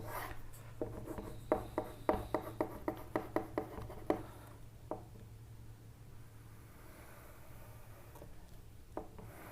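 A hand sketches a diagram of a rod under an impact load during a strength-of-materials lecture, giving a quick run of sharp scratchy pen or chalk strokes, then slower scattered marks over a low steady hum.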